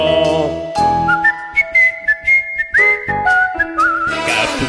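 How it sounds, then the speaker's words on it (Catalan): A person whistles a bright, sustained melody in a children's school production of Little Red Riding Hood, the notes sliding and held over chordal music accompaniment, loud and close. "ningú xiula com jo."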